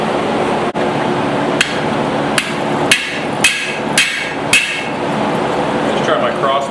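Cross peen hammer forging a tiny hammer head, pulling the cheeks down on the sides: about eight sharp metallic strikes at uneven intervals, spaced roughly half a second apart midway, over a steady workshop hum.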